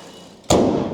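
A single loud, close thud of the bonnet being shut on a white-pearl Renault Samsung SM7 Nova, a six-cylinder 2.5-litre large sedan, after a quiet moment, with a short rumble trailing off.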